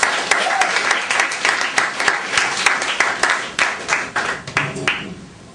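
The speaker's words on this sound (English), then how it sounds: "Let's give them a round of applause" A theater audience claps for two volunteers called up onstage, a couple named Lucille and Andy; dense, close applause swells and pulses in waves for several seconds before tapering off.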